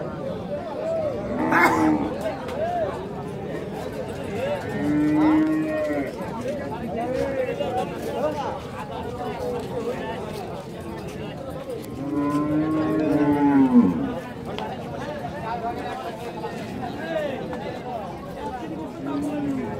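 Cattle at the Rajshahi city livestock market, including dairy cows and bulls, give several loud, drawn-out moos. They rise over constant crowd chatter, and people talk nearby.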